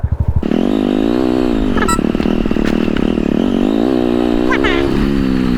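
A Hero Splendor motorcycle rides off-road, its engine a loud, close, continuous drone rising and falling with throttle changes, with rattles and clatter over rough ground.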